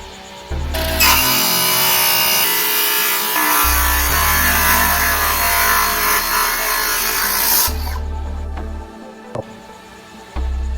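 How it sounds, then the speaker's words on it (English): A radial saw cuts through wood outdoors near the ocean in two long, loud passes, its motor whining steadily through each cut and separated by short pauses, with a few knocks and clatter toward the end. "And I'm gonna start sawing."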